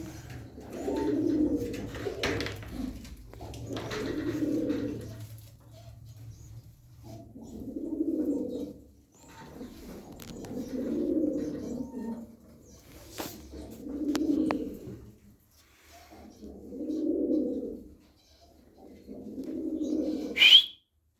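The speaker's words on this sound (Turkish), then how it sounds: "Elimizdeki kuşlar bunlar arkadaşlar." Pigeons cooing in a slow, repeated series of low, throaty calls, about seven phrases with short pauses, close by, with a brief chirp near the end.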